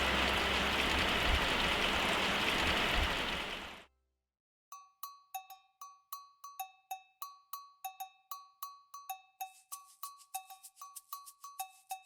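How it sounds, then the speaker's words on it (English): Heavy storm rain pours as a dense, loud hiss for about four seconds, then stops abruptly. A run of sharp, evenly spaced ringing drips or chime-like plinks follows, steady and moderately loud. "Man, it has been raining all throughout the night."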